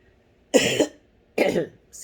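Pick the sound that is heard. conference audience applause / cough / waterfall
cough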